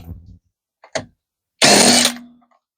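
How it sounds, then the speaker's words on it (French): An electric impact gun works on a Renault Twingo 2: a short low whir, a couple of clicks, then a loud harsh burst of about half a second that winds down, close up. "Alors, j'utilise mon pistolet électrique pour faciliter la tâche."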